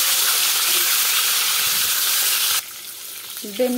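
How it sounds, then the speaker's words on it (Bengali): Eggs fry in hot oil in a pan, a loud, bright, continuous sizzle and hiss that suddenly drops away, leaving a faint quiet tail. "এখন আমি এই তেলে ডিমগুলো ভাজা করে তুলব।"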